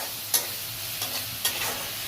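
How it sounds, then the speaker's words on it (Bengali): Spice paste stir-fries in hot oil with a steady sizzle, broken by two or three sharp scraping strokes of a spoon against the pan. "এবার একটু মশলাটা ভালো করে তুমি কষিয়ে নিয়ে তেল ছাড়লেই"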